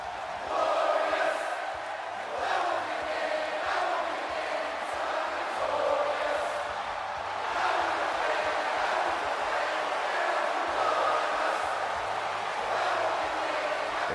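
Wrestling arena crowd in WWE 2K18 cheering as a steady, rolling roar, with a few louder swells and a low rhythmic hum beneath.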